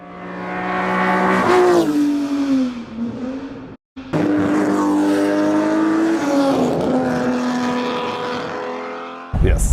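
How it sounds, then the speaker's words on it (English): A Ferrari 250 GTO's V12 with velocity stacks on top and open exhaust at the back revs hard and climbs through the range, dropping off briefly at four seconds before surging again, loud and close, with no talking. "that 250 GTO has velocity stack sitting on top of the engine and that exhaust coming out the back"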